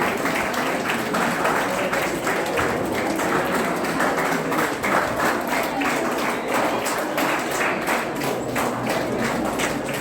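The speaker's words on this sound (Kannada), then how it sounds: "ಎಲ್ಲ ವಿದ್ಯಾರ್ಥಿಗಳು ಯಥೇಷ್ಟು ಜೋರಾದ ಚಪ್ಪಾಳೆಯೊಂದಿಗೆ ಅವರನ್ನು ಸ್ವಾಗತಿಸಿಕೊಳ್ಳಬೇಕಂತ ವಿನಂತಿಸಿಕೊಳ್ಳುತ್ತೇನೆ" An audience of students claps loudly to welcome a guest at a university lecture-series event in Dharwad, with dense, continuous applause lasting the whole ten seconds.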